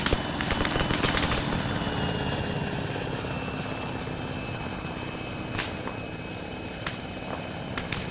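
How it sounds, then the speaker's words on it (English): A helicopter flies in the military video game Arma 3, its rotor thumping in a dense, loud, continuous chop that eases slightly over time, with a few faint clicks on top. "they just dropped a fucking helo inside of the compound with a friendly"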